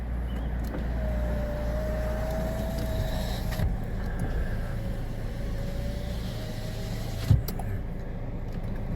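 A car is heard from inside the cabin while driving, a steady low engine and road rumble with a faint whine and a brief knock near the end, no talking.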